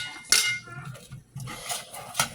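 Butter is stirred around a pan with metal utensils, producing repeated scraping and clinking of metal against cookware at close range.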